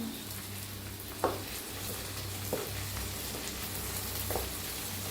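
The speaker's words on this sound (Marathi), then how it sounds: "थोडस तेल वतायचं गरम झाले त्याच्यात टाकायचा असा कढीपत्ता कढीपत्त्याला जरा भाजून घेऊया" Curry leaves frying in hot oil, a continuous low sizzle with a few brief clinks or pops spaced out; nobody speaks.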